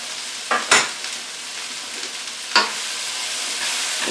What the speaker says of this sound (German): Ich kann an dem Rühren gar nicht genug bekommen.